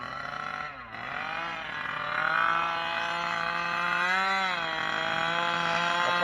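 A Losi 5ive-B gas RC car engine with a mod clutch idles and revs at about quarter throttle, a buzzy two-stroke drone rising and falling in pitch in several pulls, close and loud, with no talking.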